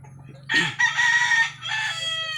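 A fighting rooster crows loudly and close by, one long drawn-out call with a brief break in the middle, over a low steady hum.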